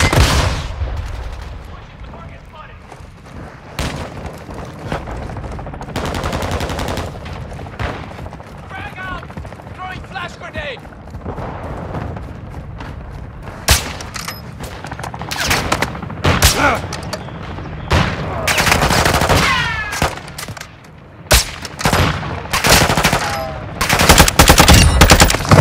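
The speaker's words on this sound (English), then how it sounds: "Our mortar strike is inbound." Call of Duty: Modern Warfare II combat: loud, close machine-gun bursts and rapid gunfire with heavy booming impacts from a mortar strike, intense and continuous with short lulls, voices faintly beneath.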